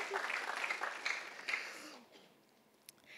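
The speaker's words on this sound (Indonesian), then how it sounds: "Berikan tepuk tangan buat Melvin." A church congregation claps during a Sunday service, a burst of moderate applause that fades out after about two seconds into quiet room tone, with a brief voice underneath.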